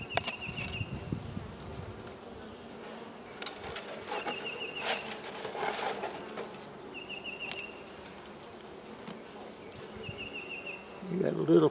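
Honeybees hum in a steady, close buzz around a hive being fed, with individual bees droning past the microphone, a few soft bird coos in the background and brief handling noises near the end.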